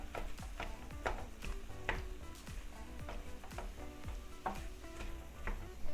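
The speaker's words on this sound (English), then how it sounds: "just going to continue cooking and stirring it until everything's mixed thoroughly" Ground turkey sizzling in a pan while a utensil stirs and scrapes through it in quick, repeated strokes, quiet and close with a steady frying hiss underneath.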